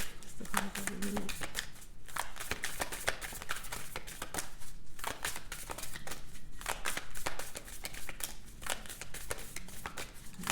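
A deck of oracle cards is shuffled by hand close up, a rapid run of crisp riffling and slapping bursts with short pauses between handfuls, steady and fairly quiet, with no clear talking.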